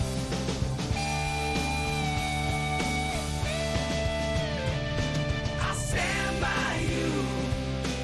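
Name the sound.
AI-generated rock love song about a panda and a tiger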